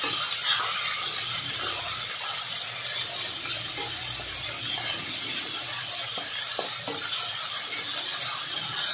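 Grated carrot and tomato sauté in a pan for a Karnataka-style Sushila dish, giving a steady, continuous sizzle and hiss that holds evenly throughout with no talking.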